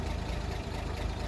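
A 1954 Chevy pickup's six-cylinder engine runs in a brief, dense, low rumble, close and steady with no talk over it.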